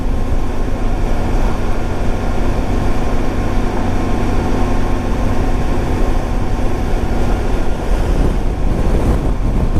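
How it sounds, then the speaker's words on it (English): Strong wind roars steadily over the microphone of a rider on a Honda ST1100 Pan European motorcycle, a loud constant rush that buries the low engine hum beneath it. "That wind is strong."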